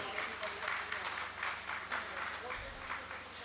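An audience at a comic poetry recital in a cultural hall in Bhiwani applauds, a faint, steady patter of many hands clapping in loose waves, with a voice talking alongside it.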